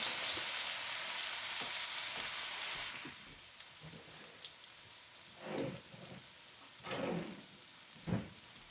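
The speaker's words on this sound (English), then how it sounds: "Put a little oil in your skillet, okay, and I'm just using regular vegetable oil. And then you want to get a really good sear on this." A pot roast searing in regular vegetable oil in a skillet: a bright, steady sizzle that drops off after a few seconds, leaving quieter frying with a few thumps and shifts of the meat.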